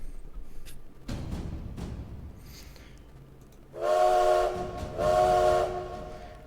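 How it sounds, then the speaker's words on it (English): A distant train whistle sounds twice in long, tonal blasts, preceded by faint rumbling and scattered background noise. "you hear the train whistle blow for the first time in hours"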